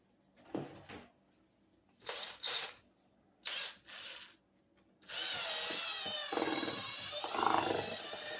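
Power drill with a mixing paddle churning a pan of gypsum concrete mud, starting in several short loud bursts and then running steadily for a few seconds, close up.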